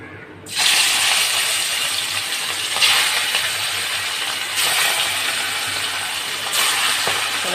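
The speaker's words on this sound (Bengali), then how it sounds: "তেল আমার গরম হয়ে গেছে এখন আমি একে একে মাছগুলোকে ভেজে নেবো" Fish frying one by one in hot oil in a home kitchen, a loud, steady broadband sizzle that starts abruptly with a strong crackle and holds with occasional bursts of spitting.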